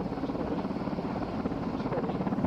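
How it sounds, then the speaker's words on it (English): British Coast Guard and Royal Air Force rescue helicopters flying overhead during flood rescues, a loud steady rotor thrum with fast rhythmic chopping that fills the whole stretch without a break. "British Coast Guard and Royal Air Force helicopters pluck them from danger."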